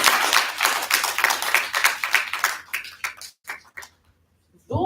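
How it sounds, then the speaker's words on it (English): Audience applause at an essay awards ceremony, a burst of brisk clapping that thins into a few scattered claps and fades to silence before a brief sound at the end. "I think you'll need another round of applause"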